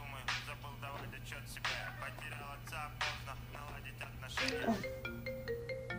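A mobile phone rings in a domestic TV drama scene, a repeating electronic ringtone melody entering near the end, moderately loud beneath ongoing dialogue and a steady background hum.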